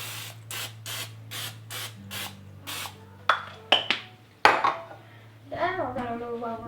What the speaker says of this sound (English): we're going to go ahead and take some olive oil and spray the pan